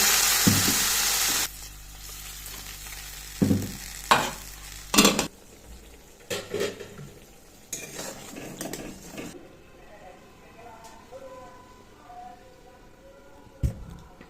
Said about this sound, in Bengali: এবার এতে একটু অল্প পরিমাণ জল দিয়ে দেবো সিদ্ধ হওয়ার জন্য।